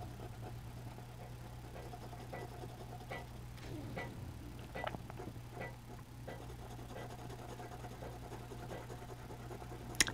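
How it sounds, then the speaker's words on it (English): Faint, irregular clicking and ticking from household heaters over a steady low hum, quiet and spread across the clip with no voices. "so my heaters are clicking"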